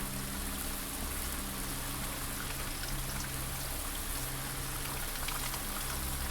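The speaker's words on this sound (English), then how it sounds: "I actually hear the sprinkler system." The sprinkler system in the video game Blue Prince gives a constant, even hiss of spraying water, like steady rain falling on a surface, with a low hum beneath it and no breaks.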